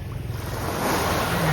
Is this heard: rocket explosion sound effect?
no